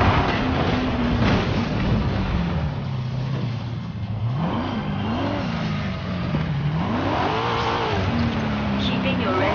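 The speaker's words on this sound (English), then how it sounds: "Keeping your engines revving." Corvette C8 engine in Forza Horizon 5 revving loudly and continuously, pitch rising and falling through gear changes and throttle sweeps, with a voice speaking over it.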